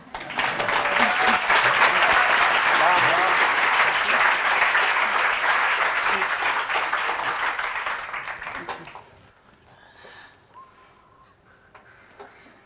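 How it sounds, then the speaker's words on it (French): An audience at a French-language fundraising seminar gala bursts into loud, dense applause that holds steady for about eight seconds, then fades out into a quiet room with faint stray noises. "il est préférable d'applaudir avant."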